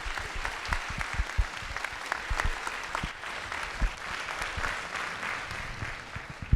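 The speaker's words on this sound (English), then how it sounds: "Please do join me in a round of applause for our great panel." Applause from the audience at a university iSchool anniversary celebration greets a panel, with steady clapping from a sizeable crowd and a few sharper individual claps standing out over several seconds.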